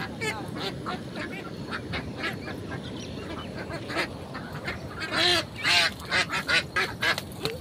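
Domestic ducks quacking as someone tries to catch them in a village yard, repeated nasal calls that grow louder and more frantic toward the end, with faint talk in the background.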